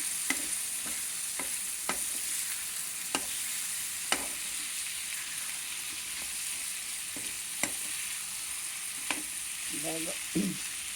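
Chickpea chaat with amchur powder is mixed in a bowl, a spoon tapping and scraping in irregular clicks over a low steady hiss, ending with a short burst of louder scraping.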